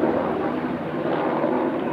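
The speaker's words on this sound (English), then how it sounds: "Of course, it's a military copter." Military helicopter flying overhead, a continuous broad droning roar at steady loudness for two seconds, fairly distant and alone with no talk.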